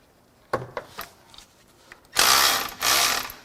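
A ratchet wrench clicks as it works loose an alternator bolt on a 1989 Trans Am GTA, a few sharp separate ratchet ticks followed by two long, loud bursts of rapid ratcheting close to the microphone.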